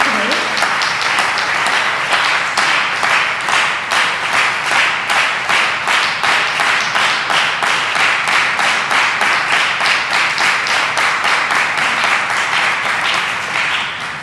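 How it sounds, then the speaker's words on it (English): Audience applause at an Eshwaramma Day celebration at the Sri Sathya Sai Centre of GTA, honoring students and competition winners: dense, sustained clapping from a crowd filling the room, with a slightly pulsing rhythm throughout. "I just want to ask everyone another round of applause for all the students and winners today."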